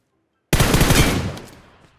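A sudden, loud burst of automatic gunfire in the video game PUBG Mobile erupts after a short silence, then trails off into a fading echo.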